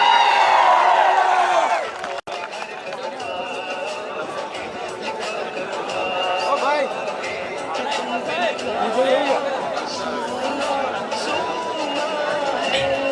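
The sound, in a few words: applause welcoming the MLA at a rally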